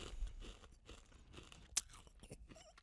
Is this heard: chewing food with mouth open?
yes